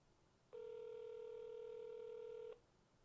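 A single steady ringback tone on an outgoing phone call to a number tied to a GTA game, holding for about two seconds before cutting off, clear and alone over faint line hiss.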